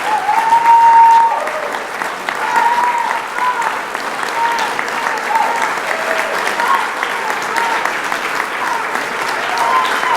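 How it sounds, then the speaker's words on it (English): Audience applause at a political honoree introduction, a dense, sustained round of clapping from a large crowd, loudest at the start and then holding steady, with a voice speaking over it. "Don't clap. I haven't said anything yet."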